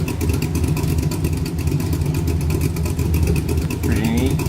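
Stock car engine in the Stock Car Extreme racing sim, a steady loud droning growl held throughout with a brief higher rising whine near the end.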